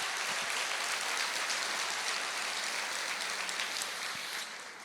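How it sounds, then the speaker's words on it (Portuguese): A church congregation claps together during a worship service, a dense, continuous wash of applause that holds steady and tapers a little near the end, with no speech over it. "Aplauda o Senhor"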